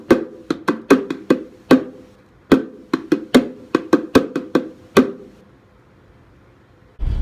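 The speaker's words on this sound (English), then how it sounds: "And played on the pair of congos, that would sound something like this." A pair of congas plays a syncopated hand-drum rhythm of sharp, close, resonant strikes in uneven groups for about five seconds, then stops, leaving near silence before a brief burst of noise at the end.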